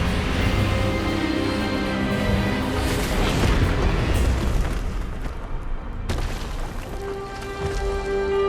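Expelliarmus spell cast in the Hogwarts Legacy video game, a booming magical blast over a continuous dense orchestral and effects wash, with a sharp burst near the middle and a sustained tone after.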